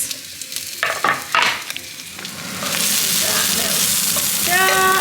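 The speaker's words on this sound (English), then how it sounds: "So I've got some coconut oil. I'm just going to add garlic and onions." Garlic and onions frying in hot coconut oil, first a few clattering stirs and bursts, then a steady loud sizzle that builds and holds close by, with no voices.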